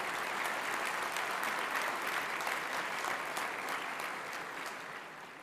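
A convocation audience gives sustained, dense applause for graduates, a steady wash of many hands clapping that tapers off gently.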